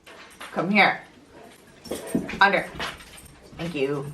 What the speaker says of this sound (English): I'm sorry that my dog is having a freak out on the carpet right now